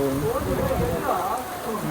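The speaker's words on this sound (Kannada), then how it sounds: "ಫುಲ್ಲು ಜೋರು ಮಳೆ ಇದೆ, ಎಷ್ಟೊತ್ತು ಹೊಡೆಯುತ್ತೆ ನೋಡೋಣ" A steady roar of heavy rain pours down throughout in Pondicherry, with a person talking over the constant hiss.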